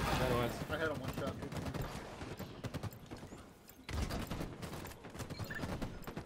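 Gunfire in the tactical shooter game Squad: bursts of rapid, overlapping shots crackle continuously over several seconds, with people talking over the battle noise throughout.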